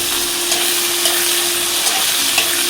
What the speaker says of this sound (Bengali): এই দিয়ে দেবো আলুটা, আলুটা ভাজা ভাজা হোক